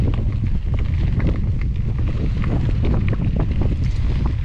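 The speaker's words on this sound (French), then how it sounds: "Le vent de face." Strong headwind buffets the microphone in a constant low roar during a gravel bike ride around Marseille, loud and unbroken, with no voices.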